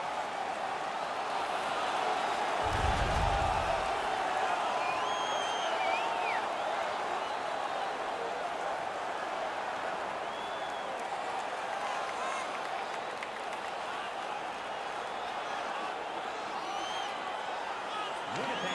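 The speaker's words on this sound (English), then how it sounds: "The home crowd is ecstatic. They're making all kinds of noise." A steady roar of a large home arena crowd cheering and making noise throughout an NHL 19 hockey game, with a brief low thump near the start.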